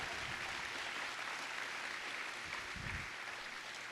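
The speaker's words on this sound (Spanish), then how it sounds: "dale un fuerte aplauso al Señor" A church congregation claps during a Spanish-language sermon, a steady wash of applause filling the whole stretch at moderate level, with a brief low thump near the end.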